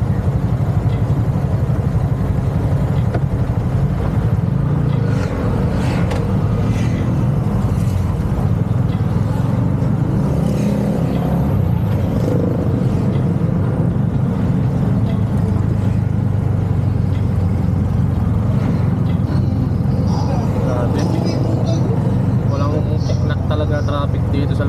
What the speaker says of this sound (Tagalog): Traffic dito sa Laguna.